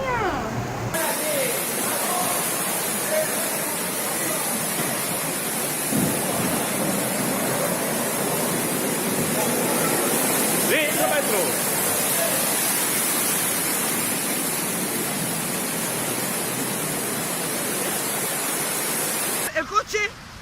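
A heavy, steady roar of torrential rain from a cold-drop storm, with rushing water filling the scene continuously and voices speaking over it.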